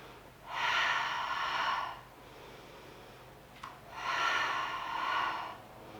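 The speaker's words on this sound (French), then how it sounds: "Et j'inspire. Et je souffle." Two long, audible breaths during a Pilates exercise, each a close airy rush lasting over a second, separated by a quiet pause.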